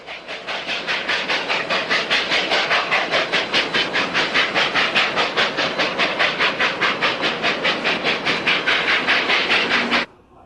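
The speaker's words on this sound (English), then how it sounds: "The run down the joint line is rather tedious as the 844 is following a slow-moving coal train." Union Pacific steam locomotive 844 works along the joint line toward Palmer Lake in Colorado with a loud, fast rhythmic chuffing exhaust and hiss, close and steady for ten seconds before cutting off abruptly.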